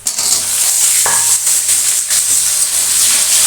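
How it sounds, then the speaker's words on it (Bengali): Loud, steady, close hissing sizzle of potatoes frying with onions in a pan for an egg, potato and cauliflower curry, with a brief clink of a utensil just after the first second. "আলুটাকে ভালো করে লাল লাল করে ভেজে নেবো পেঁয়াজ দিয়ে"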